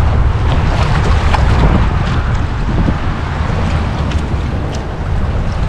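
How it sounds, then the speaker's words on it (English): Loud, steady wind buffets the microphone in a constant low roar, with faint water sounds beneath from a boat on a current, and no voices. "Hopefully this wind and current will calm down a little bit."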